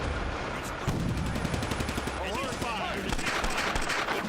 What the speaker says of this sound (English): here they're just blindly shooting, it seems, through the smoke